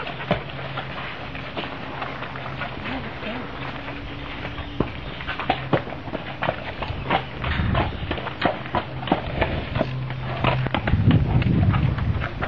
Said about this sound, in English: Look how big a horse is.